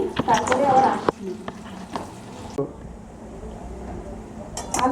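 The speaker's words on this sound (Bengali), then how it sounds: "তো এবার আমি আলুগুলোকে ভেজে নেব।" Lightly boiled, peeled potatoes fry in oil for Kashmiri dum aloo. A loud, close sizzle with pan and utensil clinks opens the scene, then drops to a quieter frying hiss broken by occasional clatter.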